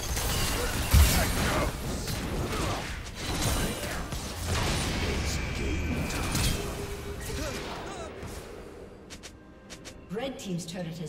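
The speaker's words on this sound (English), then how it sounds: "Red team's turret has been destroyed." A turret being destroyed in a League of Legends match, with a creaking, crashing mechanical collapse and whooshing game effects under a voice talking, settling toward quieter clatter at the end.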